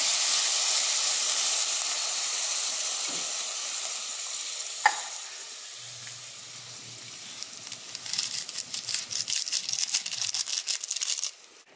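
Dried fish daing sautéing with tomatoes in a pan gives a steady loud sizzle and hiss. A sharp splash of broth makes the sizzle settle quieter, followed by close, rhythmic scraping and stirring bursts.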